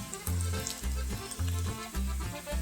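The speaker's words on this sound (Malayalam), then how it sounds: "അതിൽ വെളുത്തുള്ളി ചേർത്ത് ഫ്രൈ ചെയ്യാം" Garlic frying in a pan for pizza sauce, a steady close sizzle with a rhythmic low thumping pulse repeating about once a second throughout.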